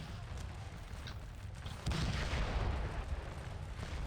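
Cannon fire in the Napoleonic battle game Scourge of War: Waterloo, heard as a continuous low rumble of distant artillery booms that swells louder partway through, with no clear voices.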